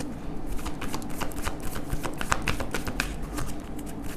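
Tarot cards being shuffled by hand, a steady run of crisp, rapid flicks and riffles at close range with no talking.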